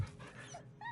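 Scratch the dog in Baldur's Gate 3 gives a short whimper and soft yip while being petted, quiet and brief over faint game background.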